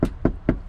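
Three firm knocks on a door, evenly spaced about a quarter second apart, close and fairly loud with a dull thud.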